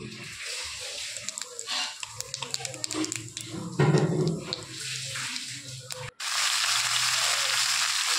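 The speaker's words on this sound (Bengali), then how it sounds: "এবার ওই তেলে জিরে ফোড়ন দিয়ে টুকরো করা লাউগুলো দিয়ে দেবো।" Bottle gourd pieces hit hot oil tempered with cumin after prawns were fried, giving a busy crackling sizzle with scattered taps and stirring. A loud burst comes midway, then a steady, bright hiss settles in near the end.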